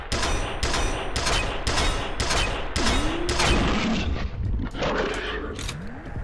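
Rapid bursts of gunfire from a weapon in the shooter game F.E.A.R. crack loudly in a quick string, then give way to roaring creature noises and lighter shots.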